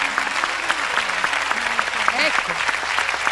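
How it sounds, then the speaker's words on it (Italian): A live audience at a stage show gives a short burst of steady, close applause for a woman and her dog, with a voice talking over the clapping. "facciamo l'applauso ad Andrea"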